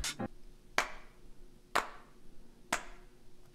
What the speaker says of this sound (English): So now there's this weird like cycle of claps going on in here.